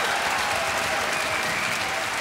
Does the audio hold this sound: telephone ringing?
no